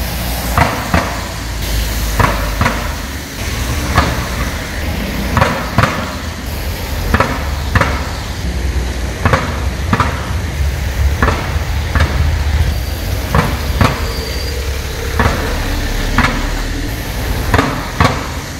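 A broken, loose manhole cover on Corso Umberto in Taranto, where the asphalt is sinking, clanks and rattles loudly each time a car rolls over it. The bangs come at irregular intervals over steady street noise.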